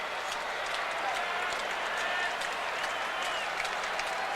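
A baseball stadium crowd cheering and applauding at a 1998 Mariners-Twins game in Minnesota, a dense, continuous roar of clapping and voices that stays steady and fairly loud under faint commentary.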